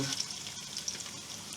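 Steady crackling sizzle of eggs frying with sausage in a hot pan, with a few brief sharper pops and faint stirring, no voices.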